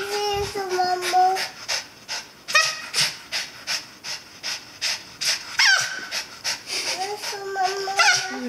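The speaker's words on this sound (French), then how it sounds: "Nana, Buddy respire." A dog panting heavily indoors, a fast steady run of breathy pants close to the microphone, with a child's high whimpering cries and other voices mixed in.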